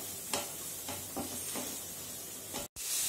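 Spice masala with chilli powder frying in oil in a pan for a banana kofta biryani, a steady loud sizzle with rhythmic scraping strokes of stirring, no talk.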